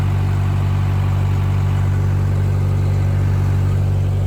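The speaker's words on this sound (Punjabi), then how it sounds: "ਮੈਂ ਕਿਹਾ ਥੋੜੀ ਦੇਰ ਜਨਰੇਟਰ ਚਲਾ ਦਈਏ ਆ ਹੁਣ ਚਲਾਇਆ ਜਨਰੇਟਰ" A generator runs steadily in a farm field, powering a water pump motor, with a loud, constant low engine drone and a strong hum throughout, no voices.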